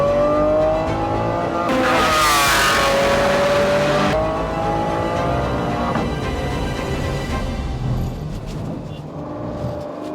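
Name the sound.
Lamborghini sports car accelerating on track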